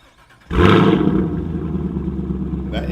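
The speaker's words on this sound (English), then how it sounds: "That MBRP sounds really good." A Chevrolet Camaro SS 1LE with an MBRP slip-on axle-back exhaust barks loudly to life after brief quiet, then settles into a deep, rumbling idle close by.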